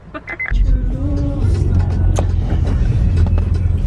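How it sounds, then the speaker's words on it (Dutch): A car engine keeps running at idle, a loud, steady low rumble close by inside the vehicle, with brief voices and movement at the start. "de motor loopt nog en zo, hè?"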